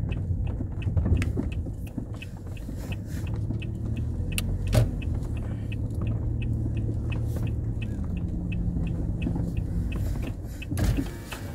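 A four-wheeled car travelling a rural road near Bogor, heard from inside the cabin as a continuous loud rumble, with repeated light rattles and knocks throughout and a few heavier jolts.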